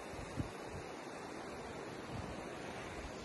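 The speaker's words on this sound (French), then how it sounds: "J'espère juste que genre le vent, les vagues et tout" Ocean waves and wind on a beach blend into a soft, continuous wash with low gusty rumbles and occasional brief swells, faint and distant, with no voices.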